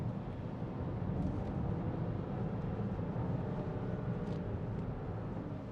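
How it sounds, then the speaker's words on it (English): Inside a 2016 Audi A6 Allroad with the 3.0 TDI V6 diesel, the engine runs as a steady, muffled low rumble with road noise, quiet and continuous with no voices. "Engine sounds great."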